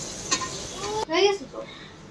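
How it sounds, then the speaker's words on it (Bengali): Onion, tomato and chili frying in oil in a home kitchen on a veranda, a steady sizzle with stirring scrapes from a pan, and people talking over it. "পেঁয়াজটাকে হালকা ভাজা দেওয়া হবে পেঁয়াজ টমেটো আর মরিচটাকে"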